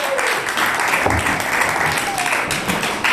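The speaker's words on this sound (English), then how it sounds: "Come on, bring him up with applause." An audience applauds a comedian, William P. Lewis, as he is brought onto the stage at a comedy show: a steady, dense wash of clapping that holds for the whole stretch, with voices faintly mixed in.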